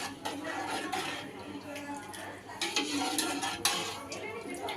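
Egg biryani with mint and gongura is stirred in a pot, giving scattered metal scrapes and clinks of a spoon against the pot over a few seconds, fairly close and moderately quiet.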